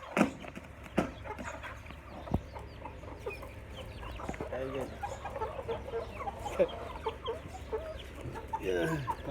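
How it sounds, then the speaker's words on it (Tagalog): Chickens clucking and squawking during feeding: scattered close clucks and sharp calls from several birds, with a person talking briefly among them. "Loko itong mga manok na to"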